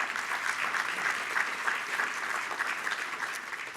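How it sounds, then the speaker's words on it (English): An audience at the Great Miami Riverway Summit claps steadily for the whole stretch, a dense and even round of applause at moderate level with no voices over it. "A round of applause."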